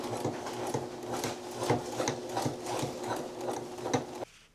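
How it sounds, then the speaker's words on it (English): Sewing machine stitching down a front pocket on handmade jeans, a steady rapid mechanical chatter with rhythmic needle clicks running close and continuous for about four seconds before stopping abruptly. "I'm gonna stitch this down now."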